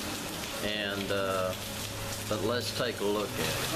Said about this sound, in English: looks like it's raining a little too hard